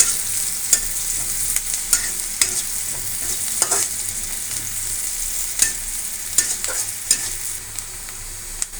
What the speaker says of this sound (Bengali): পেঁয়াজ কুচিগুলো ভালোভাবে ভেজে নিতে হবে নাহলে পরে কাঁচা থেকে যাবে